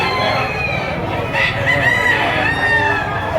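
A rooster or stag at a busy Filipino gamefowl market crows loudly and close, its drawn-out call rising over a murmuring crowd and background chatter.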